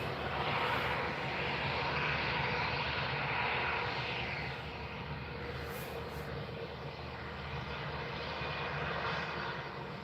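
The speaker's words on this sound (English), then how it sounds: "On taxi A319 to Hamburg, Ken Alloway." An Airbus A319 taxis at Stockholm Arlanda Airport, its jet engines giving a steady, fairly loud whine and rumble that holds for the whole stretch, with slight swells and no voices.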